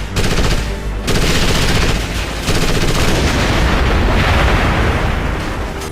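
Dense, loud automatic gunfire and explosions rage almost without pause in Ghost Recon Advanced Warfighter, set in a Mexico City under siege, with bursts briefly dropping off before resuming.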